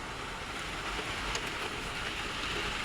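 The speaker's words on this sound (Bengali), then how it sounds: "এত বৃষ্টি নামছে" Heavy rain pours steadily during a thunderstorm in Gazipur, with trees breaking nearby, giving a dense, continuous wash of close downpour with no voices.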